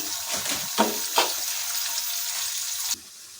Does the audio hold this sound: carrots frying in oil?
yes